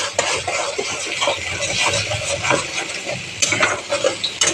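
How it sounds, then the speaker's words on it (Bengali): Coriander leaf chutney with salt is mixed briskly in a bowl, giving loud, close, continuous wet stirring and scraping with occasional sharper knocks, and no voices. "একটু ঘেঁটে দিই।"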